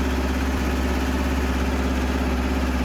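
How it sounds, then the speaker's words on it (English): Tractor engine in a farming video game, running with a steady low droning hum and even tonal throb, loud and constant for a few seconds without speech. "It's just a tractor being thrown around."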